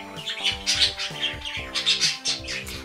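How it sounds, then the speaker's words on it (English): Pet birds squawk and chirp loudly and repeatedly, close by, over a steady tonal background. "My birds are being super loud right now."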